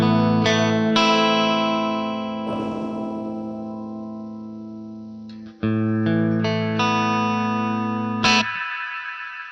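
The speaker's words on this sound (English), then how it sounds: "So we've got the ice verb." An electric guitar run through the Ice Verb reverb effect in Guitar Rig 6: sustained chords with long shimmering tails, struck several times and left ringing, with bright, washy reverb filling the space between notes.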